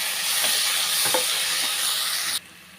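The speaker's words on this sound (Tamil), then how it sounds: "இப்போ ரெண்டு தக்காளி சேர்த்துக்கிறேன் தக்காளி நல்லா வதக்கிக்கிறலாம்" Chopped tomatoes sizzle and hiss as they are sautéed with softened onions in a pan, with a steady loud frying hiss and a few stirring scrapes, then the sizzle drops away abruptly near the end.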